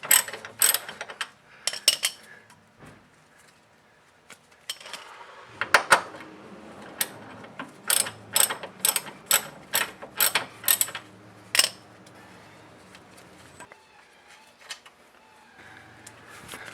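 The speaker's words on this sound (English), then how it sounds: "now we're going to start unbolting the crossbar" A ratchet wrench unbolting the front sway bar crossbar on a Toyota Corolla, sharp clicking bursts in quick repeated runs with pauses between, loud and close amid faint metallic handling noises.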